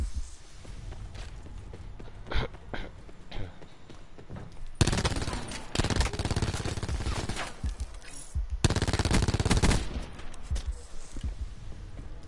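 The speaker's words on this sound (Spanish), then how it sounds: "DPU listo para disparar." Bursts of DPU machine gun fire in a video game, two long loud rapid volleys among scattered shots, footsteps and game sounds, with talk throughout.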